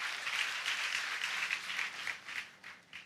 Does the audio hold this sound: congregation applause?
yes